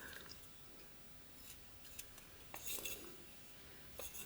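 Close, faint knife cuts notching basswood on a whittled Sherlock Holmes figure, a few crisp scraping snicks spread over a few seconds with a quiet hiss underneath and no talking.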